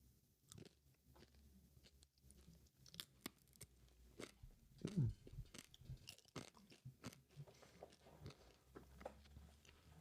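Crunchy Yays snacks are chewed close to the microphone in ASMR style, with a steady run of soft, irregular bites and crunches at low volume and no talking.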